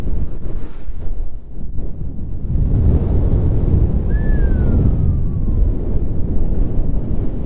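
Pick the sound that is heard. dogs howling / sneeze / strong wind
strong wind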